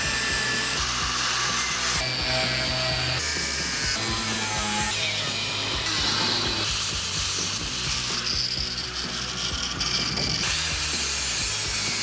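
A cutting tool slits around a corroded chassis panel on a mid-engine Audi kit car build. Loud, close grinding and whining comes in long bursts that shift in pitch, with no talking.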